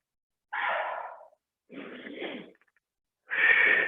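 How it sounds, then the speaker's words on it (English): Exaggerated breathing during a Pilates workout, three close, breathy exhales and inhales, each lasting under a second with short pauses between, the last the loudest; no speech. "If you have some kind of exaggerated breathing, that's totally fine in Pilates."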